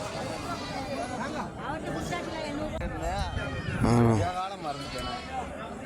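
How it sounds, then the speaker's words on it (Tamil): Sheep and lambs bleat amid a noisy crowd of chattering people at the Mukkoodal goat market, with one loud, close bleat standing out near the end. "பன்னியாடு குட்டி"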